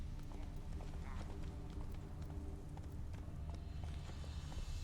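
Roach the horse galloping in The Witcher 3, a steady rapid drumming of hooves close by and fairly quiet, continuous throughout with faint ambient game sounds.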